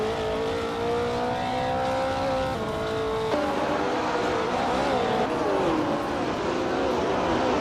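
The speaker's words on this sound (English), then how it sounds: "Fish the Husky is driving the 1968 Porsche 909 Bergspider" Racing car engines from a 1968 Porsche 909 Bergspider in a racing video game, a steady loud engine whine with shifting pitch from gear changes, joined by other cars in a pack, continuous throughout.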